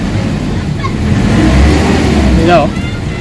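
A Nissan Navara with a low-power 2000 engine and fuel knocking revs steadily, its low rumble swelling and easing over a few seconds, close and loud.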